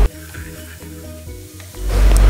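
Diced root vegetable, cut into small red-and-white cubes, is stir-fried in a hot pan, giving a close sizzle that builds into a loud hiss at the end.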